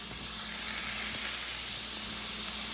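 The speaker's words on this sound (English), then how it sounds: "you're just going to basically scramble the egg" A single egg being scrambled and fried in a hot pan for a one-person Chinese dish, giving a steady close sizzle with faint scrapes of stirring and no talking.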